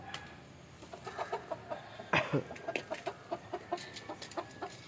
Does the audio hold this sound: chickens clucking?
yes